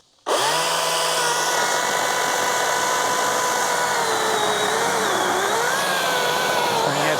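A Husqvarna 350i battery electric chainsaw on low power mode starts abruptly and holds a loud, steady high-pitched whine with some pitch wobble under load as it cuts, with no voices.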